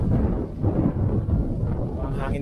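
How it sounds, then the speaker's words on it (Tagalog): Loud, rough wind buffeting the microphone on a mountain hiking trail in Infanta, Quezon, a constant low rumble that swells and dips without pause. "Ang hangin dito ah."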